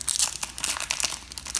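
A Tim Hortons 2019-2020 hockey card pack's foil wrapper is torn and crinkled open up close, with a quick run of crisp tearing and crackling bursts over about two seconds and no talking.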